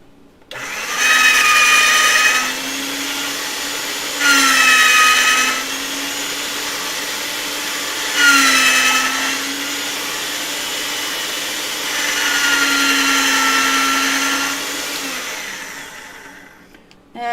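Polymer clay scraps are fed through a motorized clay machine on its thickest setting, making four separate whining runs of a few seconds each, loud and near, with short quiet gaps between them.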